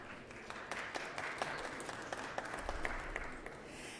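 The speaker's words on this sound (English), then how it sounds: "That's a good place to clap." Applause in a state senate chamber, a steady wash of many hands clapping across the room, moderately distant and sustained without let-up, no one speaking over it.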